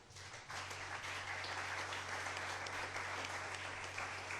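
A church congregation applauding during a French sermon, dense continuous clapping that swells in within the first half second and holds steady, with a low hum beneath.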